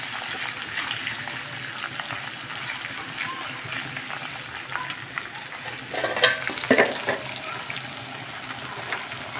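Washed dried fish frying in a pan for a gongura dish, a continuous crackling sizzle with scattered stirring scrapes and a louder burst of clatter toward the end.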